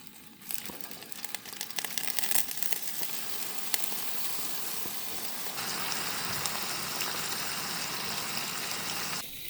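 Food frying in a hot pan on a camp stove in the Australian bush, a dense, steady sizzle that swells louder partway through and holds, with faint crackles throughout.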